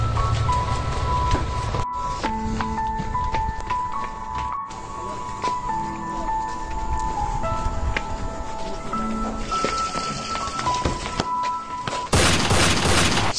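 Gunfire bursts in a Bangladeshi action short film, sharp cracks scattered through a dense, loud soundtrack with tonal music-like layers, ending in a burst of broadband noise.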